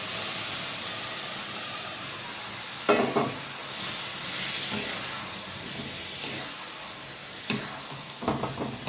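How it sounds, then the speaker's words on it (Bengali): A chickpea greens and moong dal mixture drops into hot oil with sesame seeds, giving a loud hissing sizzle broken by several sharp stirring and spattering bursts, with no voices. "তো এইখানে আমি এই ছোলার শাক আর ডাল, মুগ ডালের মিশ্রণটা দিয়ে নেব।"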